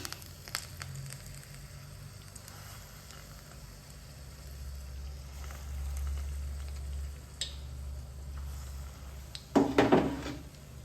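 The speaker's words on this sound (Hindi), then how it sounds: "अब इसके पकौड़े बनाने की तैयारी करते हैं।" Onion and chili pakoras for a curry frying in hot oil, giving a soft, continuous sizzle over a low rumble, with a louder clatter of cookware near the end.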